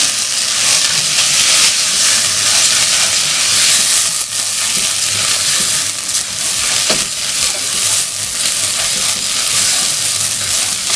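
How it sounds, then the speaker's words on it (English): Soaked, washed rice tossed with turmeric in a hot pot hisses and steams loudly and steadily, with a soft scrape of stirring under the continuous sizzle. "Toss the rice for about a minute before adding water."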